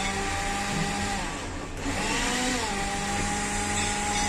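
A blender motor whirs steadily while crushing watermelon and ice, its pitch dipping briefly mid-run as the load bogs down, then recovering; loud and close, with no talk over it.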